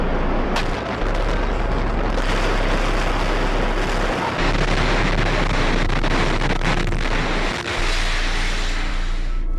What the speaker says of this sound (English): A huge explosion now.